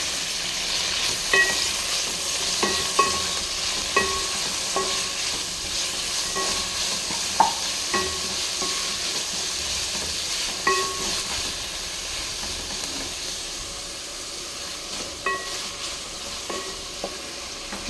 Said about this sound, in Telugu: కొత్తిమీర అండ్ పుదీనా అన్నీ వేసుకునేసి కాస్త ఆయిల్లో కొంచెం మగ్గనిస్తే చాలు.